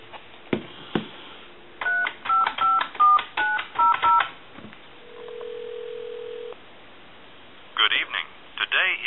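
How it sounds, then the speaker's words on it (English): A GTE Starlite touch-tone telephone dials out: a low click, then a quick run of about eight short, evenly spaced DTMF beeps, a single longer steady tone, and a few clipped tones near the end, all loud and close. "Let's go ahead and call a couple of numbers, a time and temp number."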